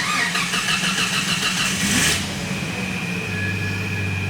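A truck engine started for the first time after being repaired and reassembled: about two seconds of loud, close cranking that catches and settles into a steady idle.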